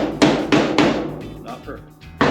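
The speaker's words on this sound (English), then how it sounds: "I'm just going to take a hammer, kind of tap on this, make it as flat as possible" Hammer tapping on a metal fender flare while fitting it to a Jeep Wagoneer, three sharp, evenly spaced near strikes followed by quieter ringing clatter and a final hit.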